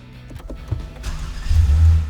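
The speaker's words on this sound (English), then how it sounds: "To set a temperature, first start the vehicle." Engine of a 2013 Lexus starting: brief clicks and a short whirr, then the engine catching and settling into a loud low rumble, close by.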